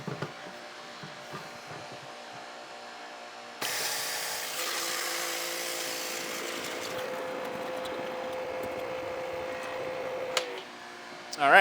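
A Dewalt 1500psi 2gpm electric pressure washer kicks on partway through with a steady high, hissing whine and spray that holds level for several seconds before cutting off, after a quieter stretch of low background noise.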